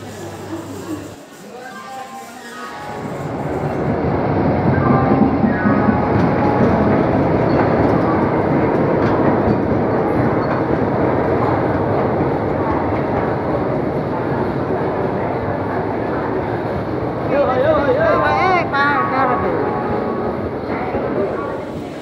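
The Kumbh Express from Howrah to Haridwar rumbles steadily along the rails, a loud continuous roar with rhythmic clatter from the wheels lasting throughout, and a voice speaking over it.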